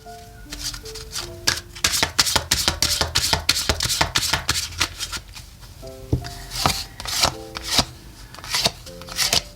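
Lenormand cards handled and laid out one by one into a nine-card tableau, giving a string of crisp, close slaps and flicks in an irregular rhythm, with faint steady tones running underneath.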